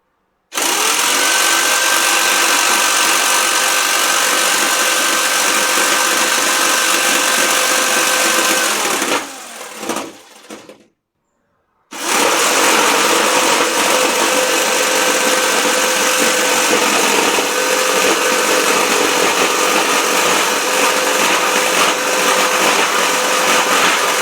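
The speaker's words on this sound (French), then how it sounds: "Là donc je vais couper des plaques pour les mettre derrière notre cuisinière" A power tool steadily cuts wall plates to extend tiling behind a kitchen stove. Its loud, continuous whine runs for about nine seconds, stops briefly, then resumes for another twelve seconds.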